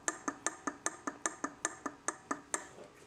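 Piston skirt knocking inside a Polaris SL750 jet ski engine: a rapid, even series of sharp metallic taps, about five per second, close and clear with no voices.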